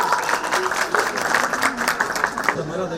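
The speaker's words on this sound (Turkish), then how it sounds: "Hadi bayan sıra mühendis adayımız Kübra Hanım'a büyük bir alkış yapalım." At a honey-eating contest, an audience claps for a participant, the uneven patter of hands running beneath a voice speaking over it throughout.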